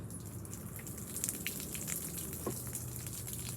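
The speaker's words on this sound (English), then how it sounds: "That's how you water a ceiling fan." Water poured onto a spinning ceiling fan makes a steady, hissing spatter of droplets, moderately loud and close, with small splashes scattered through the noise.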